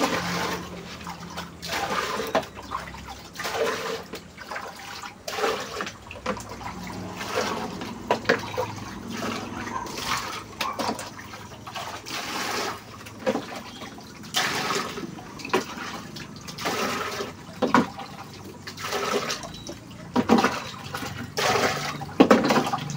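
Water is pumped into a container in a steady run of rhythmic gushing surges, each stroke sending a splashing pulse of liquid, continuing for over twenty seconds.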